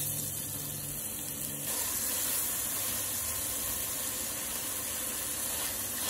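Onion sizzles in hot oil in a pan, a steady, dense hiss that holds at an even level throughout, close and continuous with no talking.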